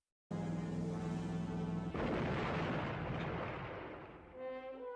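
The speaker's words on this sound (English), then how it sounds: "leaving us with a very good final scene, with an explosion and Mad Max walking away from the scene" A sudden loud explosion erupts in a 1979 action film scene, a deep rumbling blast that rolls on for seconds and slowly fades while a tonal hum rises at the end.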